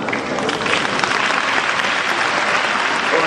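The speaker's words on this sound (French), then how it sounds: "On applaudit s'il vous plaît" A large audience at an official launch ceremony applauds loudly and steadily for a little over three seconds in a dense, continuous wash of clapping.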